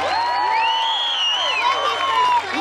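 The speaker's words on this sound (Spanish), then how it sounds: "Un aplauso para él" Festival crowd in Juchitlán, Jalisco applauding and cheering for a contestant, with steady clapping and whoops from many people, while a loud voice rings out above the applause.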